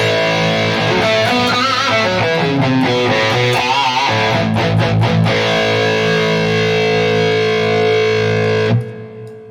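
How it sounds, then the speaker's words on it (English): A crunchy, overdriven electric guitar through a Fractal Audio Axe-Fx III plays chords and riffs with a warm Marshall-style amp distortion, ending as the last chord is cut off abruptly. "Of course, you can get these Marshall-like crunch tones."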